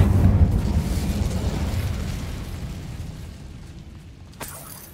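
An Incendio fire spell is cast in Hogwarts Legacy: a sudden fiery burst and boom opens, then a rumbling roar slowly fades, with a small sharp pop near the end.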